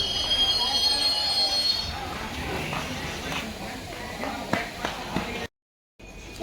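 A train pulls into Duliajan station with a steady low rumble and faint wheel squeal, a high whine fading early, then a brief break before the noise resumes; no clear speech over it.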